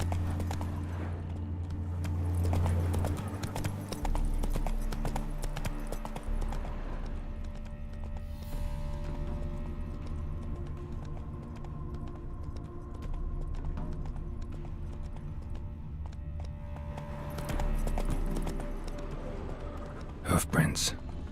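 Roach the horse's hooves beat steadily in The Witcher 3, a continuous clip-clop over an ambient game soundscape, with a voice murmuring briefly.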